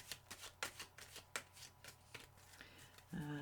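Quiet, close shuffling of a deck of tarot cards, a series of soft riffling slaps in an uneven rhythm, ending with a brief rustle.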